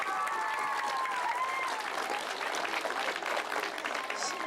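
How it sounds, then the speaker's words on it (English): Audience applause at an El Monte community event, a dense, steady roar of many hands clapping that holds loud and close for the whole stretch, with a few faint voices mixed in. "Let's give Cynthia a big round of applause."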